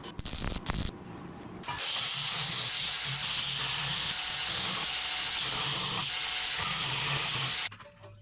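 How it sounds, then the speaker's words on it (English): MIG welding on a new thumb for a large Case 170B excavator gives a continuous, close, crackling hiss that holds steady for about six seconds after some clunks, then stops abruptly. "I'm just going to finish it up with some MIG"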